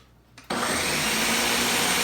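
An electric blender plugged into a wall outlet switches on after a brief quiet start and runs with a loud, steady whirring drone, blending a cooking mixture.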